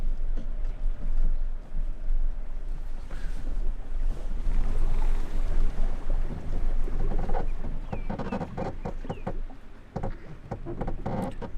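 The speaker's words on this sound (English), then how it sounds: "Pull it out and then you just rev the heck out of it till it starts, or until you flood it, whichever comes first." A small boat engine is revved hard with the choke pulled out while trying to start it, giving a loud, uneven roar with surges and dips, mixed with gusty wind noise outdoors.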